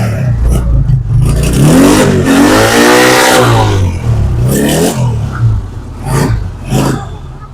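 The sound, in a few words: motorcycle engine running with double silencer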